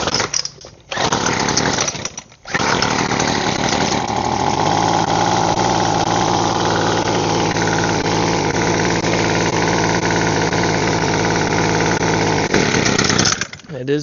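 A small weed eater engine runs roughly at half choke, a loud buzzing drone close by that sputters and dips near the start, then holds a ragged uneven idle before cutting out at the end.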